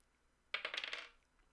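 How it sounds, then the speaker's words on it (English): Two dice roll for a tabletop game and land with a short burst of quick clattering taps on a hard surface. The clatter lasts about half a second and is close and fairly quiet, with no talking. "So I'm going to roll the 2 dice."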